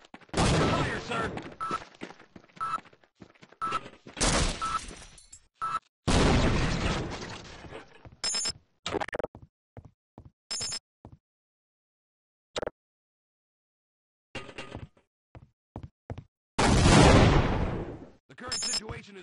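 Bursts of gunfire and explosions from the video game Half-Life: Opposing Force come in loud, sharp clusters separated by short silences, with a heavy sustained blast near the end.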